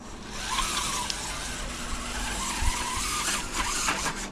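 An Axial Capra 4WS RC buggy skids its tires across slippery ground. A continuous scrubbing, hissing skid comes with a faint electric motor whine, fairly close and steady for several seconds.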